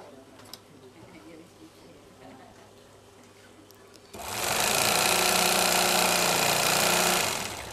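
An overlock sewing machine sits quiet amid faint room noise, then abruptly starts and runs at a loud, steady whirring buzz for about three seconds before stopping.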